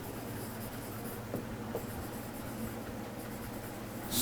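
Steady scratchy scraping of writing on a board during a grammar lesson, continuous and fairly close, with brief knocks partway through and a louder stroke at the end; no talking.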